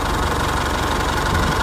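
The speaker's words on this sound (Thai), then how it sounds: "ให้สังเกตดูว่าเครื่องยนต์เดินไม่ค่อยนิ่งนะครับ" An Isuzu D-Max with a 4JK1/4JJ1 diesel engine idles roughly and unevenly up close, a dense steady knocking rumble with no talk.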